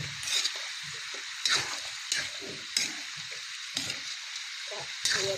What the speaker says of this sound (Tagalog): pagkatapos ilagay, haluin na natin